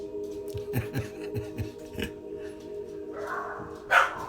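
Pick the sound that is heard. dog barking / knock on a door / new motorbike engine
dog barking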